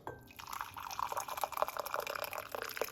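Hot water poured from a kettle into a pot, heard close up as an uneven, gurgling splash with dripping and trickling bursts lasting several seconds, with no talking.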